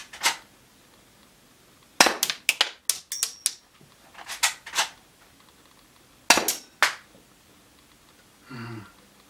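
A UK Arms P2400 airsoft pistol fires at a target as sharp, close snapping shots, singly and in quick clusters separated by pauses, with a short mechanical rattle at the end and no voices.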